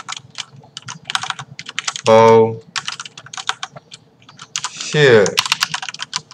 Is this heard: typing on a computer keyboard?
yes